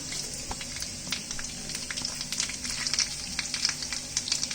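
Fenugreek, rice, coriander and cumin fry in a pan with a continuous close crackling sizzle full of small pops and spits, moderately loud and with no voices.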